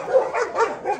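A black Canary Mastiff mother dog nursing six puppies whimpers and gives soft yips and short barks, several close, eager cries in a row with no talking.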